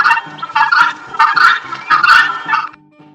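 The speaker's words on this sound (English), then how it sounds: "Guinea fowl." A guinea fowl calls in loud, rasping bursts, five repeated harsh cackles in a steady rhythm, close and alone before falling quiet.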